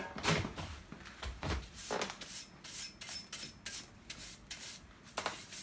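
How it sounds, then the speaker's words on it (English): A brush scrapes oxidised scale off a small metal cylinder that has been through high-temperature burns. The strokes are repeated, rough and fairly close, in an uneven rhythm. "I'll just get the brush and scrape that so it doesn't fall in."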